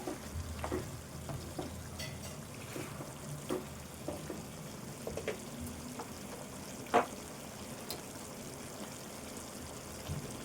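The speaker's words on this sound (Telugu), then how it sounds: "రెండు టమాటాలు ఇది కూడా వేసి కలుపుకోవాలి" Two tomatoes stirred into Telangana chicken soup in a pan: faint, soft scraping and light sizzling, with a sharper clink around the seven-second mark.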